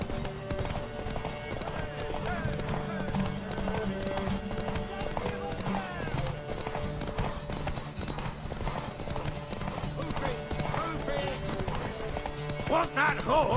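Horse hooves clip-clop in a steady rhythm in The Witcher 3, with occasional neighing, continuous and fairly close among game music and ambience, with voices speaking at times.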